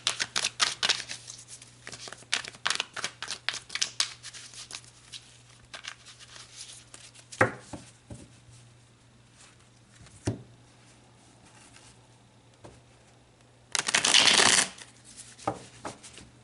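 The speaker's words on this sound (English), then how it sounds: "So let's pull some more cards, Pisces, and see what comes out." Tarot cards being shuffled and pulled: a rapid run of crisp riffling flicks, then scattered single card snaps, and a dense burst of shuffling near the end, all close and without talk.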